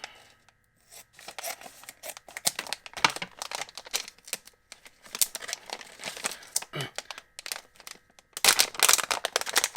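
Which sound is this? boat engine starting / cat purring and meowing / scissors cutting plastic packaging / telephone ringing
scissors cutting plastic packaging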